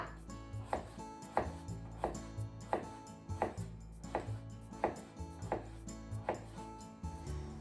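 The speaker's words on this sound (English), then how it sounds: "And slice into about 1 centimeter." A knife slices through firm daikon radish on a board, regular chopping thumps repeating about every half second, close and steady with no talking.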